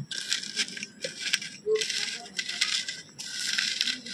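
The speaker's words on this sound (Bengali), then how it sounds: "পরিমাণ মতো লবণ দিয়ে আমি লঙ্কা রসুনটা একটু ভালো করে মাখিয়ে নেব।" Chopped green chilli and garlic are mashed together with salt by hand, giving soft, close, squelchy crushing bursts in short repeated strokes with brief pauses between them, with no talking.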